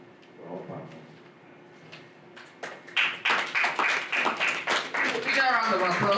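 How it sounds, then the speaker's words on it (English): After a few soft taps and a spoken voice, a room of people breaks into applause that starts as separate claps and builds into steady, close clapping, with a voice talking under it near the end. "Big round of applause for that"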